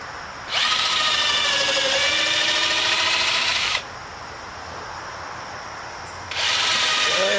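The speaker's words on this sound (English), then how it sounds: "So what I got to do now is to pre-drill and put in" A power drill pre-drills holes in a rotted wooden picnic table, with two loud, steady whining bursts of about three and one seconds, separated by a quieter pause of low background noise.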